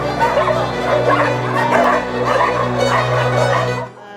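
Many dogs barking and yelping together at a large animal shelter in a frontline region of Ukraine, a dense, loud, continuous chorus of overlapping barks over a steady low hum.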